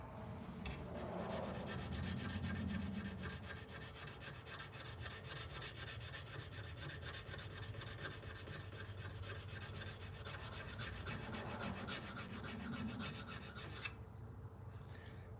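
Continuous rasping and grinding while shaping bevels and wooden handles, a steady, moderately quiet abrasive texture that carries on without pause.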